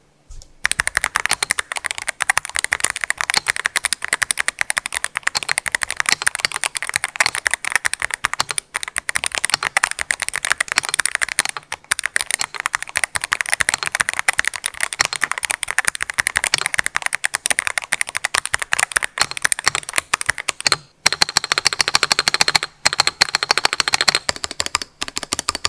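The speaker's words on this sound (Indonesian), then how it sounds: "Coba kita dengarkan sound test dari Mons Geek M1W V3HE." Continuous, dense typing on a Mons Geek M1W V3HE mechanical keyboard, with clacky keystrokes and a slightly rattling shift and spacebar, steady and close for the full length with no talk.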